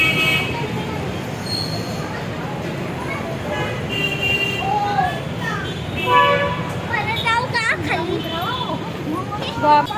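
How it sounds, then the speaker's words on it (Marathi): A metro train hums and rumbles steadily beneath busy crowd chatter, with a short horn-like toot partway through. "तर आता परत आम्ही मेट्रोने घरी निघालेलो आहे."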